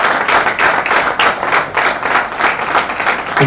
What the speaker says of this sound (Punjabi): ਆਪਾਂ ਜ਼ੋਰਦਾਰ ਤਾਲੀਆਂ ਮਾਰ ਕੇ ਸਵਾਗਤ ਕਰਾਂਗੇ